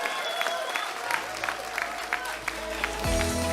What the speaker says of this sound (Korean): 제 말이 맞다면 크게 박수 한번 쳐주십시오.